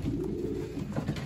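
Racing pigeon breeding hen cooing softly nearby, low throaty coos rolling in a rhythmic series with no talking over them.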